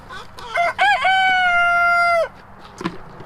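A rooster crows loudly and close by in a backyard chicken coop, one long sustained call preceded by a couple of short rising notes, followed by a brief soft cluck.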